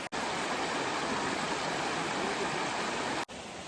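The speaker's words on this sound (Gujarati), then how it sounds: "એકદમ શાંત નદીનો ખળખળ અવાજ આવે છે" A river flows and gurgles beside a campsite in dense forest, a steady, close rushing wash that carries on without a break and with no voices.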